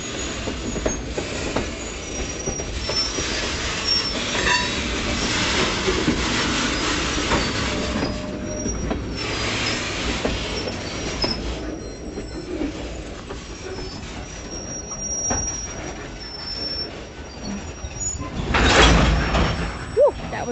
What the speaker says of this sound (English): And they're gonna have a long train.